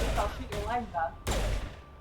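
Gunfire in the video game Mass Effect comes as two sharp bursts, mixed with someone talking over the action.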